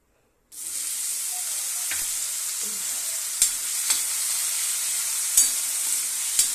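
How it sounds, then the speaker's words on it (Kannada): Ridge gourd frying in oil in a pan starts with a sudden loud, steady sizzle that continues throughout, with a few sharp clicks of a spatula now and then. "ಚೆನ್ನಾಗಿ ಫ್ರೈ ಆಗ್ಬೇಕ್ರಿ ಹೀರೆಕಾಯಿ"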